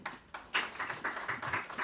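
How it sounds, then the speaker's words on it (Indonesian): A group of women in a training session claps together in a quick, even rhythm, faint and somewhat distant, with several sharp beats close together. "Oke, tepuk tangan suku cewek 1."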